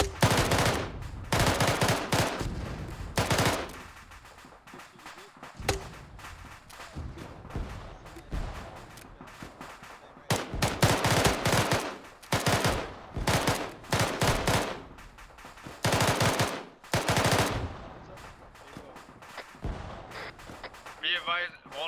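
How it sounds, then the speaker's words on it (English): A Mark 19 grenade launcher in ARMA 3 fires in loud, rapid bursts during a night convoy operation, with repeated volleys separated by short pauses and radio chatter running underneath. "Mark 19 is making mincemeat of them."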